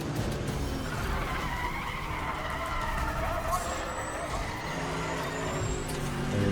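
Car wheelspin in Need for Speed The Run: a steady screeching tire squeal over a revving engine, loud and continuous, with someone talking over it.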